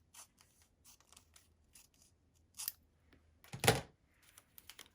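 Scissors trim quilting fabric for a quilt block in a few quiet, close snips and short cuts spread across a near-silent moment.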